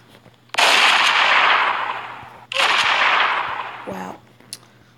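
Gunfire in the Roblox game Prison Life comes as two loud, sustained bursts, each rolling on for about two seconds. A short voice follows and then fades.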